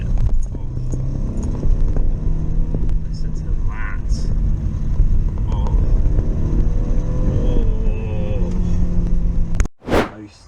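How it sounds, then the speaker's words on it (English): A Subaru Legacy 3.0R Spec B estate's flat-six runs smoothly yet with a slightly coarse, gravelly edge. Its steady low drone continues beneath someone talking, ending with a sharp thump. "Even though the engine feels really smooth, it sounds like almost like it's running on like sand or gravel."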